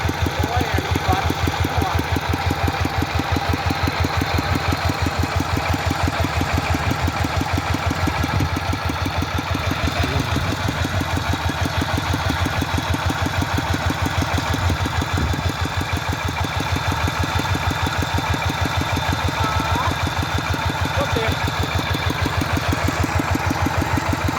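A Lamborghini tractor used for ploughing rice fields idles steadily. It has weak power, and its engine oil is overflowing. The close diesel chugging has an even knocking rhythm that holds for the whole stretch, with faint talk in the background.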